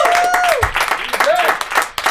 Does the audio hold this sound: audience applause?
yes